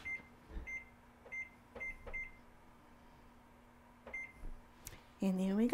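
Short electronic beeps sound as an oven timer is set, in scattered single and double presses, then a louder tone closes the sequence; a cooking show host speaks quietly underneath.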